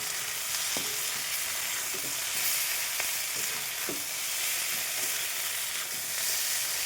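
Okra and potato fry in hot oil, a steady close sizzle broken by soft scraping taps as the pieces are stirred.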